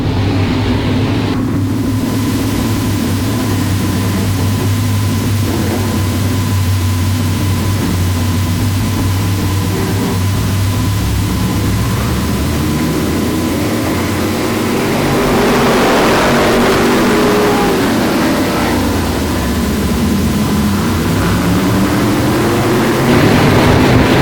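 OSCAAR modified race cars roar around Sauble Speedway, a continuous loud engine drone that rises and falls as the pack passes, steady for the whole stretch, with no talk.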